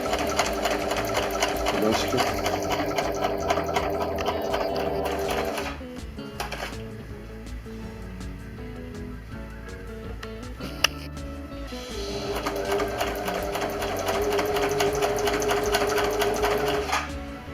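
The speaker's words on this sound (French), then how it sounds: "faites votre couture sur tous les bords" A sewing machine stitches around the edges of a fabric face mask, running in steady close-up bursts with a rapid mechanical whir, pausing briefly midway before starting again.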